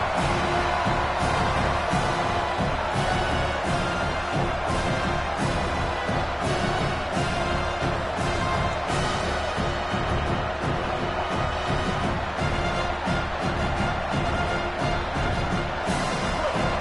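Football stadium crowd at a UT vs Auburn game, a loud, dense, continuous roar that holds steady throughout with no clear individual voices standing out.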